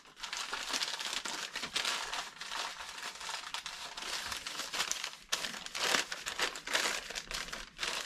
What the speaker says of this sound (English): So I'm just going to roll up a bit of paper here